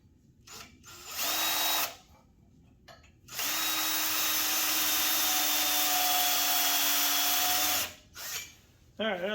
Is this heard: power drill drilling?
yes